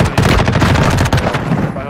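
Rapid, loud gunshots from a first-person shooter video game, a dense burst of machine-gun-like fire that tapers off near the end, with some voice mixed underneath.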